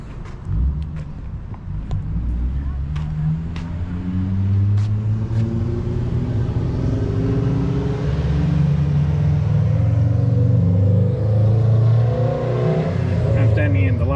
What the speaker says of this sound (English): Bunch of motorcycles in here.